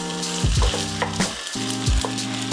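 Garlic fried rice with eggs sizzling in a pan, a steady hot fry with a few louder scraping bursts as everything is pushed together and stirred.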